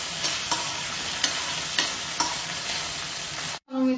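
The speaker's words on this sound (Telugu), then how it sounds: "అది పచ్చివాసన పోయే వరకు ఫ్రై చేయాలి" Ginger garlic paste fries in a pan for goat brain fry, a steady broadband sizzle with faint periodic stirring scrapes, close and alone, ending in a brief break followed by a louder clatter.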